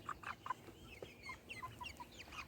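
Young Cochin chickens clucking in a pen, with a run of short, soft calls and brief cackles spaced irregularly at close range.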